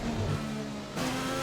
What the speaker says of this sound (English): You can hear it in the engine. Something is amiss.